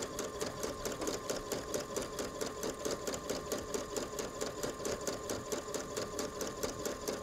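Close and steady, a sewing machine stitches couture lace trim embroidery in pink thread, its rapid, even mechanical chatter running unbroken and alone throughout.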